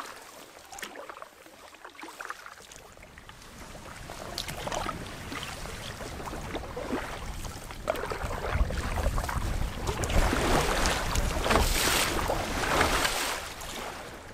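A motorboat crosses Lake Nipigon in windy conditions, with engine drone and rushing water and wind swelling steadily louder toward the end.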